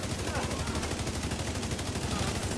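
Continuous automatic gunfire in The Division 2 video game, a dense rattle of rapid shots running steadily throughout, loud and unbroken.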